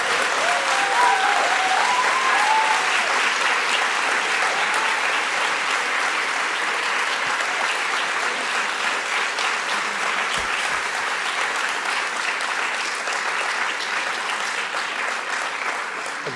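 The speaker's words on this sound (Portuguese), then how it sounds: "Agora que vocês vão bater palmas" Audience clapping fills a conference hall at Sciences Po after a speech by Lula, a long, even, dense round of applause that stays strong for over fifteen seconds with a faint voice underneath early on.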